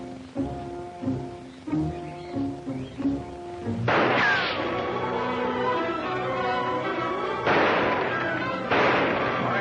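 Gunfire from a 1942 film serial: several sharp, booming shots crack out amid tonal music, followed by a sustained noisy barrage of blasts that carries on loud to the end.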